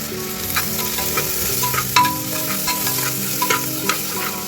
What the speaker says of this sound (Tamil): எண்ணெய் ஊற்றி பட்டை கிராம்பெலாம் போட்டு பெரிய வெங்காயம் வந்து வதக்கிக்கிட்டு இருக்காங்க